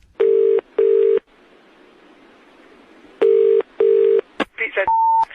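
Telephone keypad dialing tones, four loud even beeps in two pairs separated by a quiet gap, then a few shorter mixed tones and a final steady tone, with no talking.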